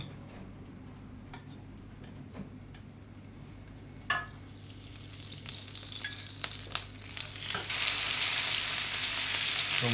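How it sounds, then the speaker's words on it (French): Pieces of beef searing in butter and clarified butter in a pan: a soft steady sizzle with scattered ticks and clinks of stirring, swelling into a louder, brighter hiss toward the end. "Je vais juste mettre une belle noix de beurre sur les morceaux de bœuf et on va donc commencer à les poêler."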